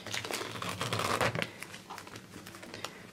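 Plastic wrap crinkles and tears as it is peeled off a boxed iPhone 6, a close, busy crackling that builds over the first second and a half, then thins to scattered rustles.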